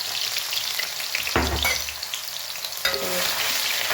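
Tomatoes, green garlic and chili sizzling in hot oil while a spoon stirs them, a loud, close, continuous frying crackle broken by two scraping stirs, with no voices.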